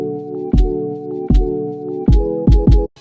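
A lofi hip hop beat intro, pitched down, pairs a steady sustained chord bed with punchy kick-and-snare hits landing in a loose rhythm, loud and close, cutting out abruptly near the end.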